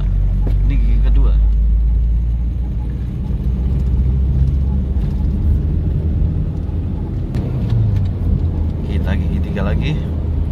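A Mitsubishi Lancer EVO 3 climbs a steep road in second gear, its engine droning low and heavy from inside the cabin beneath frequent talking.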